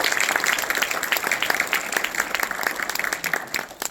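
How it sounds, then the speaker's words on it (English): A crowd applauds steadily at a congressional candidates forum, dense clapping filling the room at moderate loudness, with a few voices faintly mixed in. "how about a round of applause for these candidates?"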